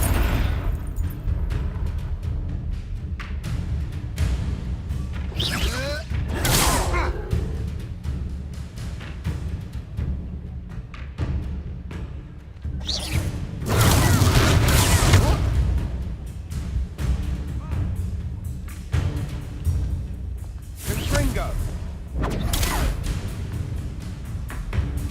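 Spells such as Levioso, Confringo and Protego cast in a video game, heard as repeated booming bursts and whooshing blasts with broadband swells, several loud impacts spread across a continuous rumbling game soundscape.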